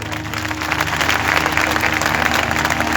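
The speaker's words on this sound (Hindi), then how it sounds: "ज़रा जोर से ताली बजा।" Loud, sustained applause from a worship congregation at a live Christian service in Peshawar, Pakistan, a dense steady wash of many hands clapping with no talk over it.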